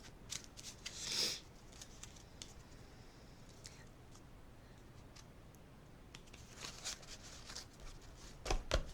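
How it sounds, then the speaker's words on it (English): Quiet, papery riffling of playing cards being shuffled, in short bursts with soft taps and flicks between them, close by, no talking. "So I'm going to shuffle my cards here."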